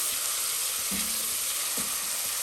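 Chopped onion sautéing in a pan for aloo palak, a steady close sizzle with a couple of soft stirring scrapes and no talking.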